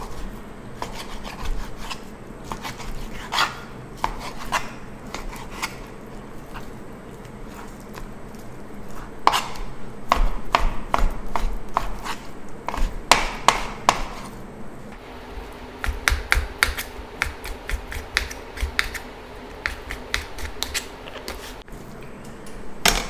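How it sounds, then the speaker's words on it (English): A knife dices raw chicken tenderloins on a cutting board, producing a quick irregular run of sharp taps and scraping rubs, close and moderately loud, growing busier toward the end. "And I'm just going to dice up this chicken."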